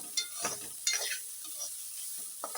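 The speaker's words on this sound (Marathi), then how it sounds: "कांदा भाजायला घेते हा कांदा" Onion fries in a pan for Malvani-style bitter gourd curry, making a soft, low sizzle with a few brief stirring scrapes close by. No one speaks.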